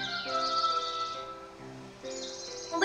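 Birds singing in the Kingdom Hearts 3 video game, a few clear, bright chirping calls rising and falling over a soft ambient background, with no talk.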